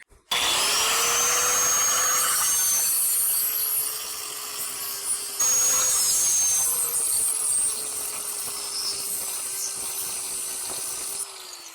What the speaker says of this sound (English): I'm going to go ahead and just cut a slot in the top of these for a flathead screwdriver.